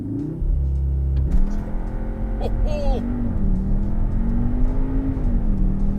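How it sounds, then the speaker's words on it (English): A 310hp CUPRA Formentor pulls away under launch control, its engine note rising and shifting through a steady loud roar, while a man's brief exclamation cuts in near the start. "Let's try launch control."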